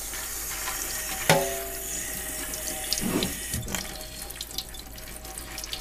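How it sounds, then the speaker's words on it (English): Sprouting seeds are rinsed under a running kitchen tap, a steady close hiss of flowing water with a sharp clatter near the start and brief splashy gurgles as the stream hits the seeds and container. "Then I'm just gonna rinse these babies off."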